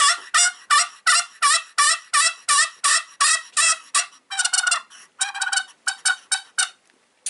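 Pot turkey call worked with a striker, giving a rapid run of loud, close hen-like yelps in an even rhythm, then a faster, rolling burst of clucks and purrs toward the end.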